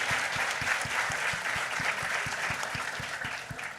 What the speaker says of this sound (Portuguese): Palmas para o Afonso Borges